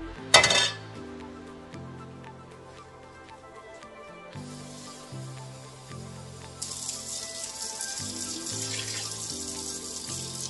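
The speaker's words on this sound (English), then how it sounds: "putting the potatoes in my pot, just like that, and I'm going to be adding water" Water pours into a cooking pot holding potatoes, a soft rushing wash that starts near the end, after light clinks of the pot and utensils over a faint steady musical hum.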